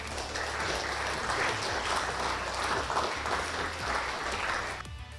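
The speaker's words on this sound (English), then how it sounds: "Give a big round of applause, everybody." Crowd applauding at a robotics competition team reveal, a sustained, even roar of clapping over a low hum that holds throughout and drops off abruptly at the very end.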